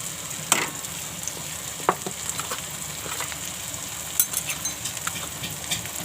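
Mixed vegetables with tomato and red Malvani masala sizzle steadily in a pan, with soft stirring scrapes and occasional clinks of a spoon over the constant frying hiss.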